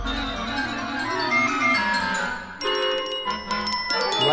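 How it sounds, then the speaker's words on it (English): Orchestral bells chime a bright melodic phrase over an orchestra, their ringing tones standing out clearly above the ensemble. "You like those bells."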